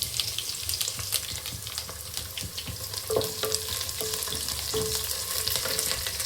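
Curry leaves hit browned onions frying in a pan, giving a steady, close sizzle with crackling bursts and a few light scrapes of stirring, no voices.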